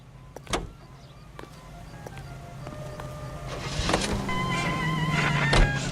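A car driven in the video game L.A. Noire, a low engine drone that slowly builds and grows louder, with scattered clicks and a few sharp knocks along the way, no talking.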